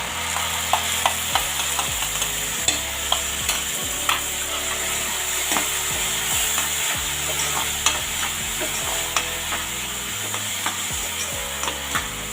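Tomatoes stirred into browned fried onions in a pan for dal makhani, a steady bright sizzle with repeated scraping and knocking of a spoon against the pan throughout.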